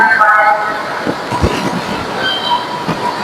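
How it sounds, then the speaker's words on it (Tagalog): A train arrives at a station platform, rumbling loudly with squealing wheels and rhythmic clatter as it rolls in close by, with voices nearby. "Kailangan mo maghintay na dadating yung tren."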